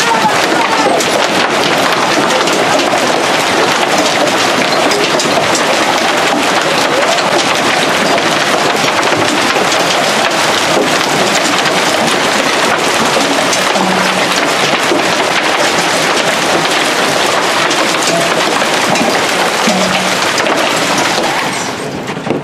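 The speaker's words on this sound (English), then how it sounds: "Holy heck, this is hail." Dense, continuous pelting of hailstones drumming on and denting metal Ford Edge car bodies, loud and close, with a few voices briefly audible amid the roar.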